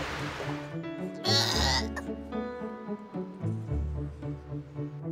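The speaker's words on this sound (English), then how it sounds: "These African pygmy goat kids have definitely got the R factor." African pygmy goat kids bleat at Longleat in summer, a few short, high, wavering cries close by, with gaps of quieter background between them.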